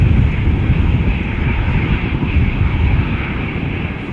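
An Aer Lingus Airbus A320 departing Schiphol for Cork makes a steady, loud, broadband jet roar that holds constant throughout, with wind noise on the microphone.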